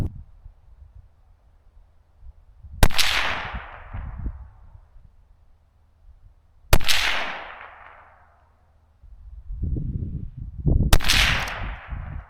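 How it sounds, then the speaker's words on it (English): Gunshots fired at a bottle target during outdoor target practice: three sharp, loud cracks spaced several seconds apart, each with a ringing decay, alone with no talk. "I'm gonna place this bottle right here, and then I'm gonna shoot a few times just to practice."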